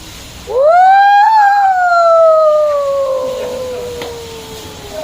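A man imitates a jackal howling at night with his voice: one loud, close, drawn-out howl that rises sharply, then slowly falls and fades over several seconds.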